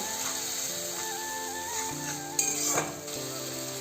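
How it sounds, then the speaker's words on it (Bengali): Spices fry with a soft sizzle in a pan for Bengali-style chana masala, stirred with a few scraping strokes and a brief louder clatter midway, steady and close with no talking. "এবার আমি এই মশলাটা দিয়ে দেব। এবার ভালো করে নাড়াচাড়া করে কষিয়ে নেব।"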